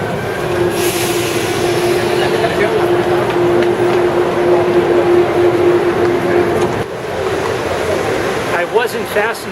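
A Mexico City Metro train rumbles loudly and steadily into a station, with a sustained high wheel squeal and rattling cars, then brakes and slows to a stop near the end.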